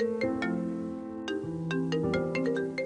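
Mobile phone ringtone playing a bright melodic electronic tune of stepped tones with sharp note attacks, repeating phrases, clear and alone.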